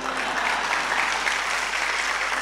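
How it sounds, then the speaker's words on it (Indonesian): An audience at an Indonesian religious talk claps steadily, a dense continuous patter of many hands that stays level and fairly loud throughout. "tepuk tangan, enggak usah malu-malu"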